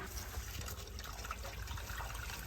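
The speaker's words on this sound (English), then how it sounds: "Okay, Dave, flush away." A toilet flushes, steady rushing and gurgling water running throughout at moderate loudness, with no voices.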